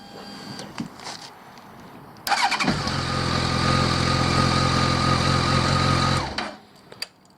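Honda CBR1100XX Blackbird motorcycle engine cranks briefly, fires and runs at a loud steady idle for about four seconds before shutting off, close by, with no talk.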